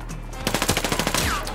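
Automatic gunfire in the online shooter Warface: a fast, even burst of about a dozen loud shots fired close up, alone without any talk.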